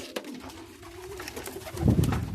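Pigeons coo softly at close range over a low ambient murmur, with a deeper, louder cooing swell near the end.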